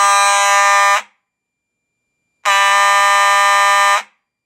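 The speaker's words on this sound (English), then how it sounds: "set out a fire alarm signal." Older Simplex fire alarm horns blare at stage one in a home system test, two long, loud, steady electronic blasts separated by a short silence.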